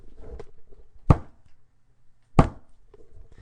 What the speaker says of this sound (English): I thudded my hand against the desk.